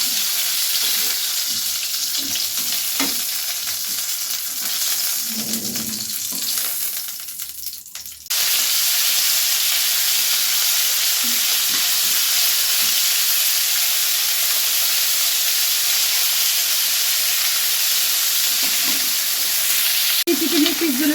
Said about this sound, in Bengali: তারপরে বাকি চিকেনগুলো একইভাবে ভেজে নেব।